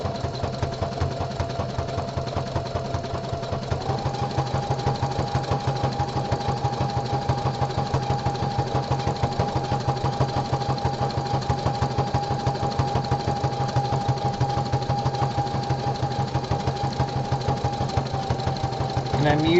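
A home sewing machine stitches a boxer brief body panel with a stretch stitch and bulky nylon bobbin thread, a rapid, even mechanical chatter with a steady motor hum running close and unbroken throughout.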